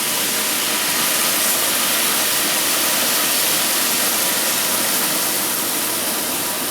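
Ale pours into a hot pan to deglaze it for a steak and ale pie, giving a loud, steady, close hiss and sizzle that holds evenly throughout.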